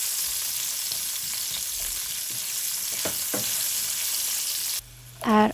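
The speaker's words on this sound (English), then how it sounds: "Fry a few seconds." Potato frying with turmeric and salt in a cup of oil: a loud, close, continuous sizzle with a few stirring scrapes, then it drops away near the end as a short beep sounds.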